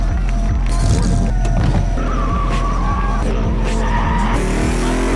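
Cars tearing away down a long road in an illegal street race, a busy mix of engine roar, tire noise and rising whines, fairly loud and continuous with no talk.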